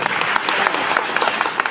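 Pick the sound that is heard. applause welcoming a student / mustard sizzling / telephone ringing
applause welcoming a student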